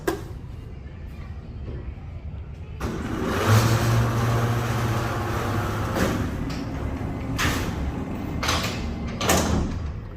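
An Excelsior hydraulic freight elevator door at Broadway Commons in Hicksville, NY, closes with a sustained mechanical rumble and grinding hum, punctuated by several clanking thuds as the door travels and settles.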